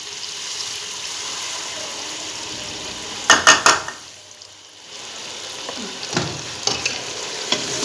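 Mutton stir-fried with yogurt in a pan, a steady sizzle broken by a few sharp scrapes and clinks of a spoon against the metal, then a brief hush before the frying resumes.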